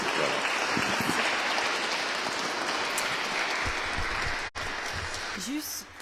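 Audience applause for a nun after a talk, steady broadband clapping filling most of the stretch, with a brief dropout and a short vocal sound near the end.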